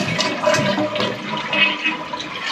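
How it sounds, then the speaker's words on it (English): A household toilet flushes as the lever lifts the flapper and the tank water rushes into the bowl, a steady close gurgling wash that carries on alone for the whole stretch. "it pulls onto the flapper and lets the water tank empty into the toilet bowl"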